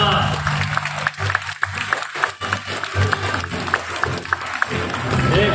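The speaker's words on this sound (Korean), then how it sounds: "여러분들 다시 한번 더 수상하신 분들께 축하 박수 부탁드리겠습니다." Audience applause for award winners at a Bandai Fun Expo Gunpla ceremony in a COEX hall, clapping steady under amplified speech and a droning PA hum.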